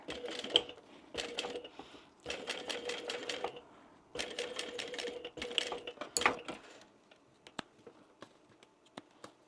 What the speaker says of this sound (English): sew from there up to here as far as we can at a 6mm